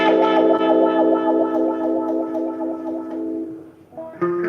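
Electric guitar run through a Cry Baby wah pedal: a sustained, heavily effected chord rings loud with sweeping, vocal-like filtered tone, then fades before a fresh strum near the end.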